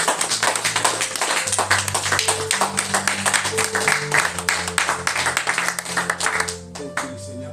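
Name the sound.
church congregation applauding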